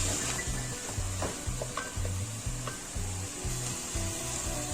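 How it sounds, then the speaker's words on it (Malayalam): Onion, garlic, ginger and green chillies sautéing in a pan, a constant hiss of frying under repeated rhythmic scraping strokes of a spatula against the pan, close and moderately loud. "അതിൻ്റെ കൂടെ നമ്മൾ കീറി വെച്ച പച്ചമുളക് എല്ലാം കൂടെ നല്ലപോലെ ഒന്ന് വഴട്ടിയെടുക്കും."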